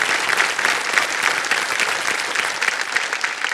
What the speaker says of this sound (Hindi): ताली बज जाए उनके लिए।